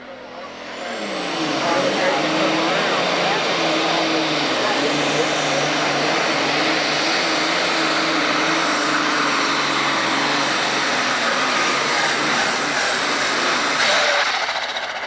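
A John Deere 4230 tractor engine roars continuously at a 1996 tractor pull in Freeport, Illinois, rising quickly to a loud sustained drone that holds for over ten seconds before dropping off, with crowd and announcer talk underneath.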